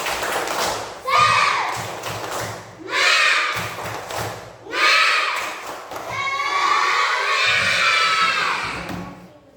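A group of schoolchildren in an Indonesian classroom does a rhythmic group clap, each pattern of slaps followed by shouting voices, loud and close in a room.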